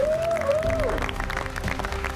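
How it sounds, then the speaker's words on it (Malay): A studio audience claps for contestants on a cooking competition show, with a brief tonal musical sting over the steady applause. "Kita berikan mereka tepukan sekali lagi."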